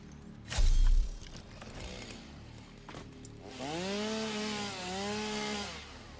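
Chainsaw in the game Satisfactory cutting trees, a sharp thump followed by a revving motor that rises and dips in pitch, fairly loud and heard alone without talk.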